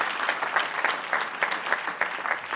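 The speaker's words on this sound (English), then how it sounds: "Please give that man one more round of applause because he is special." Sustained applause from a crowd at an Urban League annual awards dinner, steady and dense with clapping textures rippling throughout, no voices over it.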